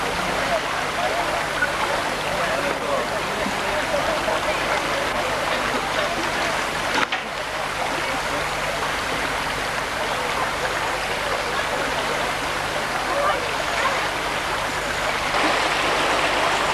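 A very fast stretch of river on a bend in Queens Park, Heywood, rushing loudly and continuously, with broadband turbulent roar and a brief bump partway through.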